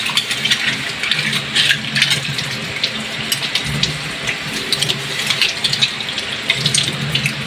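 Water runs steadily from a tap while dishes are washed, a continuous close splashing and gushing with faint clinks throughout.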